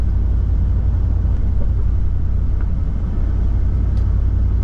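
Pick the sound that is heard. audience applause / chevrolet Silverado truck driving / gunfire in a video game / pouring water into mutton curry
chevrolet Silverado truck driving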